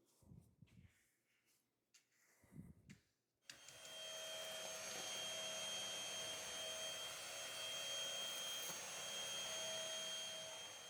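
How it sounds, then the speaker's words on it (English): A vacuum cleaner starts on a vinyl plank floor after a few quiet bumps and handling noises, then holds a loud steady whirring drone with a faint high whine. "Always start by removing dirt with a soft broom or a vacuum on the hard floor."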